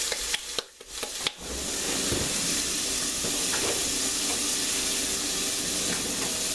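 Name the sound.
vegetables frying in olive oil in a pan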